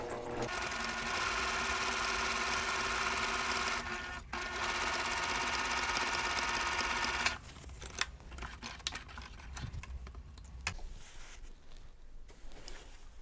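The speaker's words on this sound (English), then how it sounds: "and then sew down the other side again, sewing just a needle's width to the left of the drawn line" A sewing machine stitches a quilt block with a steady, fast mechanical whir for about seven seconds, pauses briefly midway, then gives way to quieter clicks and handling sounds close by.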